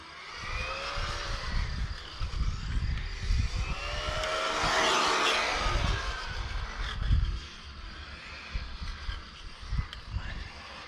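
A Kyosho Fazer VE electric RC car runs at full throttle outdoors, giving a loud, sustained whine that swells to a peak near the middle and then eases off, with no talking over it.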